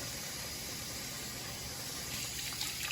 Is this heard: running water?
yes